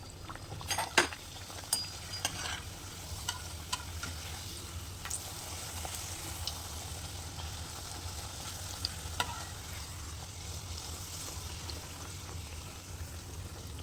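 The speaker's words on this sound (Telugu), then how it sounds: "బాగా నూనె వేడైన తర్వాత పూరిల్లా చేసుకున్న వాటిని వేయించుకోవాలి." Sweet pooris fry in hot oil with a continuous soft sizzle and bubbling, broken by occasional clinks of a utensil against the pan, all fairly quiet and close.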